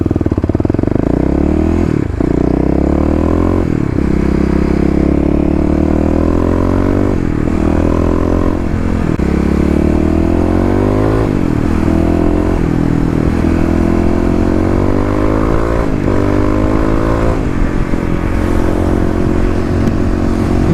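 A Kawasaki KLX351 EFI dirt bike accelerates hard and loud and close, its engine note climbing repeatedly through the gears in steady rising sweeps with brief dips at each shift, running continuously with no talk.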